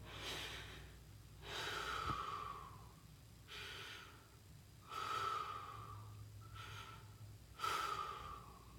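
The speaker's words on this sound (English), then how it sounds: "I take 3 deep grounding and centering breaths to clear and ground myself." Slow, deep breathing during a calming grounding exercise, with several long inhale-exhale cycles rising and fading steadily. The breaths are close and alone, with no talking.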